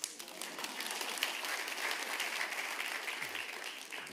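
A church congregation at an Abbalove Sunday service breaks into brief, steady applause, many hands clapping evenly at moderate volume without speech.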